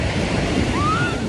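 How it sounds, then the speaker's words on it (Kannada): Ocean waves surge and break on Serenity Beach in Pondicherry, a steady loud wash of surf with wind buffeting the microphone throughout. "ಇವಾಗ ಬಂತು ವೇವ್ಸ್."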